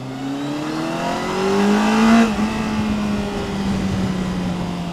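Kawasaki Concours 14 ABS motorcycle engine pulling hard under acceleration, a loud smooth rising drone that climbs in pitch, eases through a gear change, then settles into a steady cruise with wind noise.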